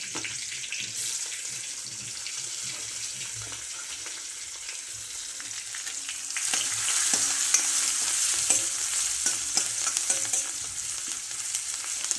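Crushed garlic and curry leaves fry in oil in an iron kadhai for a village-style potato amti, with a steady close sizzle and occasional stirring scrapes that grow louder partway through.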